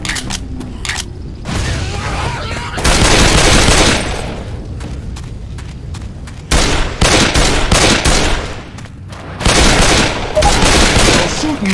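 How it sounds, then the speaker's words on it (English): Left 4 Dead 2 gunfire, loud bursts of rapid automatic shots coming in several long volleys separated by short gaps, close and harsh. "They're shooting me."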